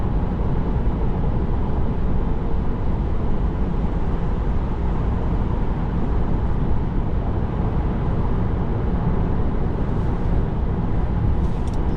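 Steady broadband wind and road roar inside a Tesla on a highway drive in the Houston area, a continuous dense rush with no breaks and no talking.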